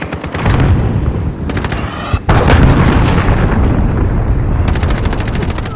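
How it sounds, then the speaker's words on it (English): Cruise missile strike in Call of Duty Modern Warfare multiplayer, with loud, dense rolling booms and crackling blasts layered over gunfire, close and continuous with a sharp burst partway through. "Allied cruise missile away."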